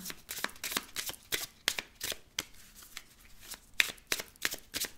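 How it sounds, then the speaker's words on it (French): Small oracle cards by Alexandre Messrec are shuffled by hand in a quiet room, giving quick, irregular bursts of close, crisp riffling and flicking with brief pauses between. "On va donc prendre ces petites cartes que je trouve magnifiques d'Alexandre Messrec."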